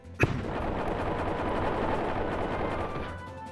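Gunfire in the Kirby and the Forgotten Land video game opens with one sharp shot, then a sustained rumbling barrage of rapid fire that holds steady for a few seconds before easing off, with no talking.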